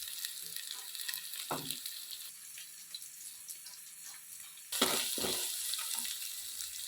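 Onions fry in a pan for thondekayi palya, an ivy gourd dish, giving a steady sizzling hiss that jumps louder about two-thirds of the way through and stays strong to the end.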